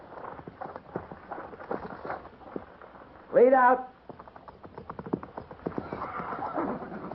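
Horses' hooves clip-clop under a cavalry officer's commands in a 1956 old-time radio western drama, with a loud whinny bursting out midway; several voices speak over the steady hoofbeats.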